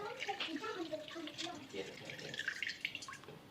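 Water poured out of a Thermomix bowl in a home kitchen, a soft, quiet splashing and trickling stream with faint voices in the background.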